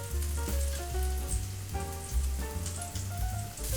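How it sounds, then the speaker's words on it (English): A squash blossom quesadilla sizzles in a hot pan, a continuous close crackle and hiss with no talking. "Sizzling."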